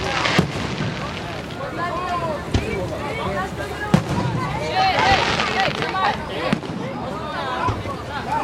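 Fireworks bursting in rapid succession with sharp bangs and crackling, loud and continuous throughout, with people's voices in the background.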